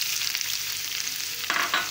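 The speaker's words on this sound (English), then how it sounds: "Onion is frying here" Onion frying in oil left over from frying chilies, with cumin seeds for a potato curry, giving a steady close hiss of sizzling and a burst of louder crackle and stirring near the end.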